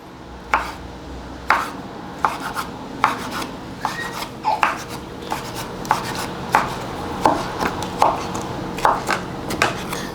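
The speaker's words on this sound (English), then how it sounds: "we'll just chop up these pieces right here" A knife chops pieces of fruit, including mango, on a board for fruit bowls: a dozen or so sharp, fairly close thuds in an uneven rhythm, each landing alone over quiet kitchen background.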